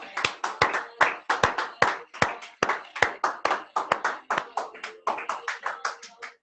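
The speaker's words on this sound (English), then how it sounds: "So a round of applause for the freaking chat." Clapping from a single pair of hands in a quick, fairly steady rhythm of sharp, close slaps, with dozens of claps and no talk over them.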